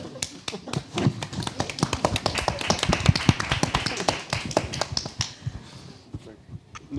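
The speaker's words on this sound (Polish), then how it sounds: "I to były te oklaski" A small audience at a literary festival panel applauds for Górniak with quick, dry claps that swell and then thin out, while voices talk over them.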